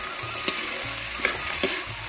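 Chickpeas fry in hot oil on a village stove, a steady close sizzle broken by a few clinking stirs of a spoon, with no talking.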